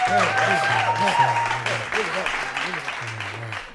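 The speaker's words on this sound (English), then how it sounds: "Yeah, we got clapping." Audience clapping during an interview-style talk show segment, a steady wash of applause over which people keep talking, with sustained music-like tones running underneath throughout.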